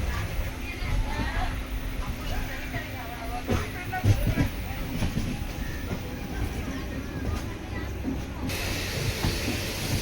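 A 2018-built unreserved coach of the Pallavan Superfast Express rolls along with a constant rushing hiss and rumble, broken by occasional clanks and thumps from the rails, while passengers' voices murmur faintly inside.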